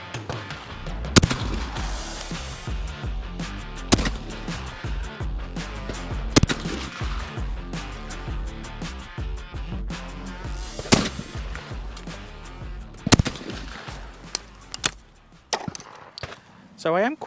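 Browning and Beretta shotguns fire at clay targets outdoors: sharp, loud reports with irregular gaps over a continuous rumbling background, and people talk faintly in between.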